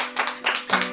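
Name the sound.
congregation applause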